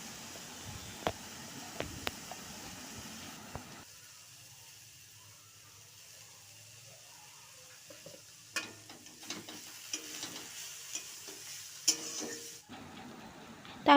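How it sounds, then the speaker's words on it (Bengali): Chopped carrots and potatoes sizzle softly in oil with spices in a pan, with scattered clicks and scrapes of stirring over a low steady frying hiss. "তারপর কুচিয়ে রাখা গাজর, আলু তেলের ওপর দিয়ে ভালো করে মশলার সাথে মিশিয়ে নিতে হবে।"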